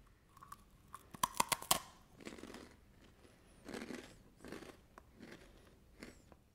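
Kellogg's Chocos Fills cereal, a crunchy chocolate-flavored shell with sweet vanilla filling, gets bitten and chewed up close. A quick burst of sharp, crisp crunches comes first, followed by softer, muffled rhythmic chewing.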